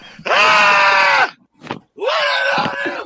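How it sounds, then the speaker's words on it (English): Screams used as a stream raid alert: two long, loud, shrill screaming bursts separated by a short gasp, with no talk over them. "We're getting a scream."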